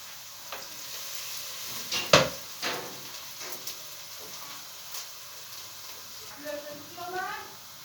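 Onions fry in a pan for a home-cooked meatball dish, giving a soft, steady sizzle with a sharp knock of utensils around the two-second mark and a few faint squeaks near the end.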